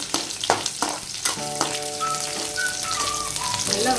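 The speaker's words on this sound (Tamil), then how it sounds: "புளி நல்லா வதக்கிக்கலாம்." Tamarind sautéed in a pan while cooking a Tamil pirandai and thoodhuvalai thuvaiyal, with a steady close sizzle, a few sharp stirring clacks early on, and a faint whistling tone running through.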